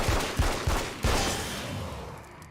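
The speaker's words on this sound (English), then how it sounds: "just scream though if that gunshots or anything like that are too loud" Four sharp gunshots in the game Alan Wake's American Nightmare fire in quick succession, each a loud boom, with the last one trailing off into a long echoing rumble.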